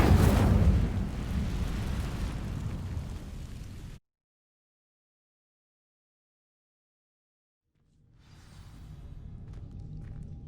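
An Incendio fire spell ignites dry vines in Hogwarts Legacy: a loud roaring whoosh of flame that cuts to silence, then a lower crackling burn fades back in, with no talk.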